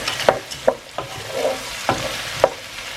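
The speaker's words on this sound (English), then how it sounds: "So we continue to fry until they get golden." Onions fry in a pan while a utensil stirs them, giving a series of sharp scrapes and taps against the pan about every half second over a steady, close sizzle, with no talking.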